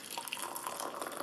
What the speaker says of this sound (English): when you put some hot water or your hot tea or hot drink into it